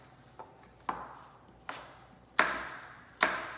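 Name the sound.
knife slicing an apple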